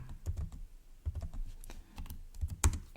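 Someone typing code on a computer keyboard, close and fairly quiet: irregular bursts of key clicks and heavier thocks with short pauses between, no talking over it.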